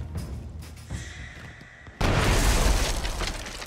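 A sudden heavy cannon boom bursts in midway in Shadow Tactics: Blades of Shogun, loud and rumbling after a quieter stretch of low background noise.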